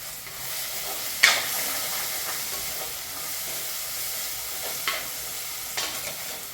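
Ingredients for a Kerala fish curry sautéing in a pan, a steady close sizzle and hiss broken by a few sharp stirring scrapes, with no voices over it.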